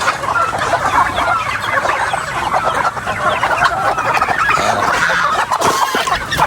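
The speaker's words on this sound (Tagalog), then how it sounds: "Marami tayong mga alagang manok." Dozens of mixed-breed farm chickens, some tethered, cluck and cackle together in a dense, continuous chorus nearby, with occasional louder squawks rising above the flock and no one talking.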